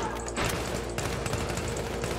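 Gunfire in the video game Battlefield 3, dense rapid bursts of shots running continuously and loudly throughout with faint talk mixed in underneath.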